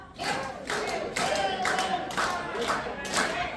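Elderly people at a day care center clap in short bursts during a group rhythm game, a series of distinct sharp clusters of hand claps in a moderately sized room with faint voices between.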